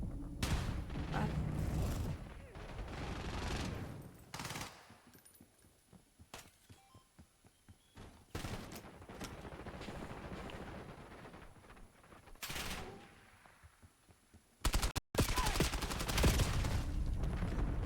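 Video game gunfire from the player's own weapon crackles in loud bursts, dense volleys near the start and again toward the end with quieter stretches between.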